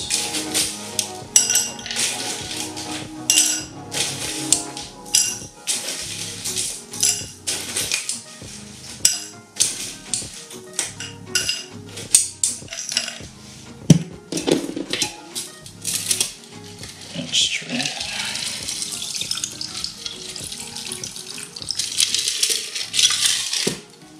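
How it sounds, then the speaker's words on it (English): Ice cubes being dropped into a highball glass, a series of loud, close clinks and rattling knocks of ice against glass, irregular and bunched, going on for a long stretch without talk. "Fill up our highball here with some more ice."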